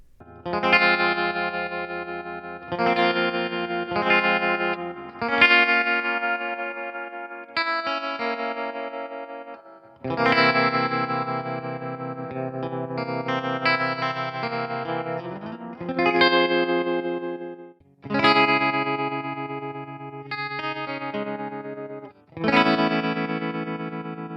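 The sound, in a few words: electric guitar through amp spring reverb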